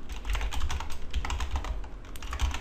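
Rapid, uneven keystrokes on a computer keyboard as a project name is entered in a PHP development setup, a steady close run of clicks with no talking.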